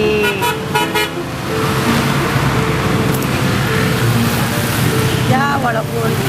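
Street traffic with a motorbike rumbles steadily nearby, loud and continuous, while car horns toot several times, briefly at the start and again near the end.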